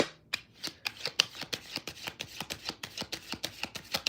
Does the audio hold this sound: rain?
no